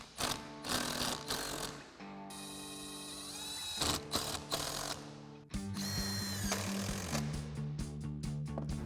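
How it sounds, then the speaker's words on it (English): Impact wrench fitted with an 8mm socket tightening hose clamps on a cold air intake for a 2016-2019 Camaro SS, several loud whirring bursts with short pauses between them, close up. "Go ahead and make sure this is secure and tighten all these clamps down using our 8mm socket on our impact."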